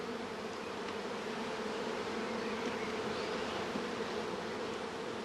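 A steady, close buzzing drone of many honeybees flying around a hive entrance, continuous and even with no voices.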